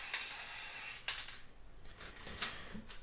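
A spray paint can empties its last bursts onto a replica ITG2 dance pad, giving a hissing spray at the start followed by a few short, quieter puffs.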